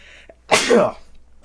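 A single loud, explosive sneeze bursts out after a brief quiet moment, sharp and close, then fades quickly.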